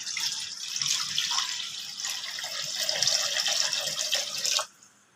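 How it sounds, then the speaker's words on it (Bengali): Water poured steadily into a wok on the stove while boiling eggs, a continuous splashing pour lasting several seconds that stops abruptly near the end. "কড়া বসিয়ে দিয়েছি। কড়াতে দেব জল"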